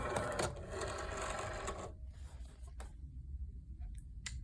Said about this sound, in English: Now we will load the machine with the material.